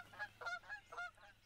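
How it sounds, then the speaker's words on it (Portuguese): Canada geese honk in a series of about five nasal calls in uneven rhythm, moderately distant and fairly faint over a quiet background. "Gansos do Canadá!"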